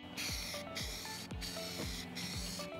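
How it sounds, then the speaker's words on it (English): A spray paint can sprays primer-coated yard decorations in four short, even hissing bursts with brief pauses between them. The sound is close and fairly quiet. "whenever you're using spray paint, you want to make sure that it's really well shaken"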